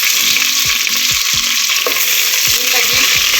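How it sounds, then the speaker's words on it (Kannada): Chopped onions with garam masala fry in a pan, a loud steady sizzle with stirring scrapes and knocks from a utensil throughout, no voices. "ಇಲ್ಲಿ 3 ಈರುಳ್ಳಿಯನ್ನು ಕಟ್ ಮಾಡಿ ಇಟ್ಕೊಂಡಿದ್ದೀನಿ, ಅದನ್ನು ಹಾಕಿ ಫ್ರೈ ಮಾಡ್ಕೊಳ್ತಾ ಇದ್ದೀನಿ."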